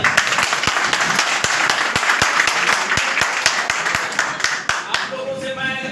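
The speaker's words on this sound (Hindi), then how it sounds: "एक जोरदार ताली" Audience applause fills a DXN office recognition event in Doha, dense steady clapping from a crowd with sharp individual claps standing out, fading near the end as a tonal sound emerges.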